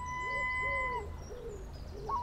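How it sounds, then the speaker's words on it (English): Seagulls call at dawn by Brixham breakwater, with several drawn-out cries repeating over quiet coastal ambience and a faint tonal background, moderately distant, with no talk. "A couple of seagulls, as you can hear."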